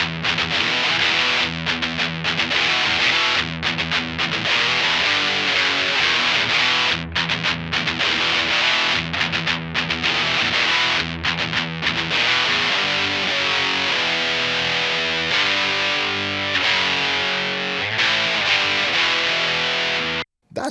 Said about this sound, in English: That's what it sounds like on guitar.